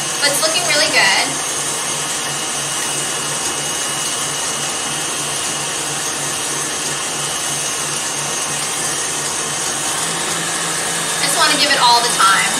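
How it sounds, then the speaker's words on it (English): An electric mixer runs steadily, whirring and creaming butter for a lemon loaf cake. The motor hum holds constant at moderate loudness throughout, with brief clatter at the start and end. "We got a minute left on creaming and aerating the butter"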